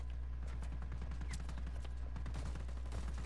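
Rapid gunfire from the video game Just Cause 4, played on PS4, with a steady stream of shots and bursts continuing over a constant loud background rumble, with no talk.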